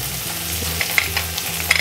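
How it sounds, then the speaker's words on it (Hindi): Chopped onions sizzle and fry in a pan for an okra and chena curry, with a spoon stirring and scraping in short repeated strokes over a steady close sizzle. "और प्याज को डाल देंगे। इसे मिला लेंगे"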